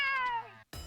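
A cat yowls in a drawn-out, high-pitched screech that slowly falls in pitch, then a brief silence before a second loud, harsh yowl starts up close.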